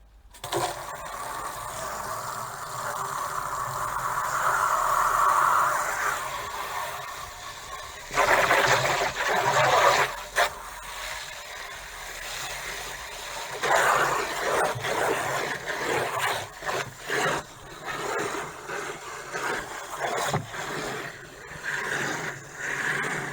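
Water from a hose pours into a barrel being cleaned out and checked for leaks, a continuous gushing splash that shifts in pitch and texture as it fills, with intermittent knocks and rustling and no voices.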